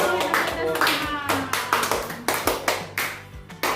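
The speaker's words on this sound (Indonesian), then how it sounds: "Oke, tepuk tangan dulu." Children clapping together in a classroom math game, a rhythmic series of sharp, close hand claps in a steady beat, with voices mixed in.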